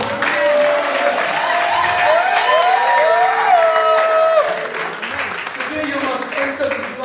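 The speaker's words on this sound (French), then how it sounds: "It's a good place to clap your hands." A church congregation at a Belgian convention applauds, with broad clapping and crowd noise running under loud voices and tonal, sung or drawn-out vocal sounds throughout.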